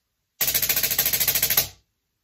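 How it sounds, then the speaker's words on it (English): A snare drum plays a 17 stroke roll as a quick, even burst of rapid strokes lasting just over a second, close and loud, ending on a firmer final accent with a short ring-out. "17 stroke rolls use this hand pattern"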